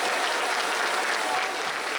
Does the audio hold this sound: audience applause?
yes